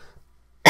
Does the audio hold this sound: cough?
yes